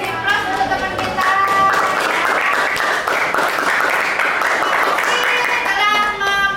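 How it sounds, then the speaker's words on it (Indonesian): A classroom audience claps for a classmate who has just finished presenting on bullying, steady applause of many hands filling the room with murmured chatter and a voice underneath. "beri aplaus untuk teman kita"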